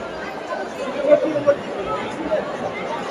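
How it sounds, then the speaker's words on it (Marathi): Murmuring crowd babble from a packed queue on a family trip to Nashik, a dense hum of distant overlapping voices with a couple of louder bumps. "फुल पब्लिक आहे"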